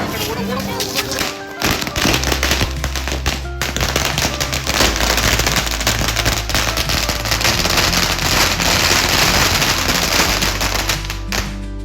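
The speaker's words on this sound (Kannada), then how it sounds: "ನೆಕ್ಸ್ಟ್ ಪಟಾಕಿ ಟೈಮ್." Firecrackers burst at a home Deepawali celebration, a loud, dense run of crackling pops and sharp bangs close by that continues almost without pause, with voices faintly underneath.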